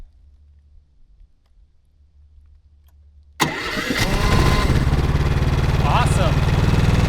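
A generator-type engine at a travel trailer in Alaska cranks and catches abruptly after near silence, then settles into a loud, steady close-up running drone, with a voice briefly heard over it.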